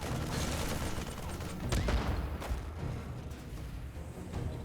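Marines firing during a StarCraft TvT match, a dense steady rattle of shots and impacts forming a constant wash of battle noise with a heavier burst in the middle.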